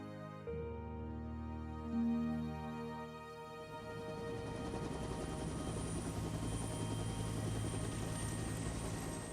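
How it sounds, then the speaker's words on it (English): A helicopter's rotor thrum rises from quiet into a loud, steady, churning roar that fills the air, with no voices. "a new aircraft was flying off carriers, the helicopter"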